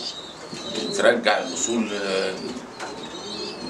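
Pigeons cooing in an Egyptian pigeon loft: soft, low, throaty coos recur under someone speaking nearby.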